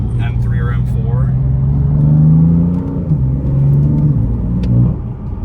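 A BMW M3 accelerates hard, its engine note climbing steadily in a loud, close rising drone heard from inside the car, with a brief shift and renewed pull, while people talk over it.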